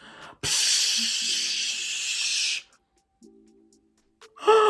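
A voice imitates the fizz of a shaken sparkling water bottle being unscrewed, a loud sustained hiss lasting about two seconds, followed by a short breathy exhale.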